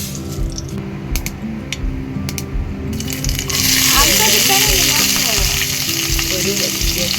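Mustard seeds land in hot oil in a pan for mixed cheera thoran, and a loud, dense crackling sizzle with popping bursts up after a quieter start, then holds steady, close by.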